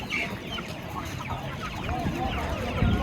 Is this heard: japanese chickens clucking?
yes